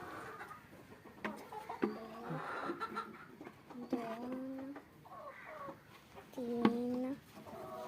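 Hens clucking at a poultry farm during egg collection, several short cackles and rising calls close by, broken up with people talking and laughing.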